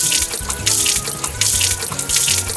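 Water pouring from a sprinkler can onto seedlings on a spring-fed farm, a loud continuous splashing in uneven surges with no voices.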